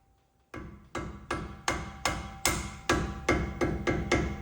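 Hammer blows striking a Ford Transit rear axle shaft, about nine loud, close metallic whacks in a steady rhythm, ringing briefly between hits with no talk.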